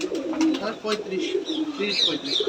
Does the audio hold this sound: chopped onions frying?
no